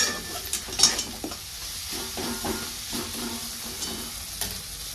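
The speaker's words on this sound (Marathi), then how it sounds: "तर आता हे छान असं मिक्स करून घेते, म्हणजे टमाटर पण बारीक होते" Vegetable curry with tomato being stirred and mixed in a pan, a close continuous sizzle with repeated soft scraping and clacking strokes of the spoon, no voices.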